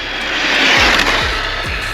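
A HoBao Hyper GTLE RC car runs at half throttle with a loud, steady high-pitched motor whine and rushing wheel noise, up close, and low thumps recur about every half second.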